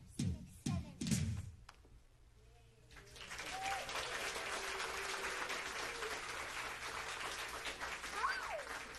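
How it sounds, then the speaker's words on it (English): A few loud single claps open the passage, then a soft, steady wash of applause follows from a crowd at a preschool graduation, fairly distant and faint, with faint squeaks near the end. "Now clap, clap, clap for the weekly clap."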